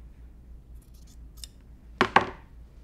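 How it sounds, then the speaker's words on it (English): Scissors snip through fabric selvage on a cross stitch project: two sharp close cuts in quick succession after a few faint rustles, in a quiet room with no talking. "Those are such pretty scissors."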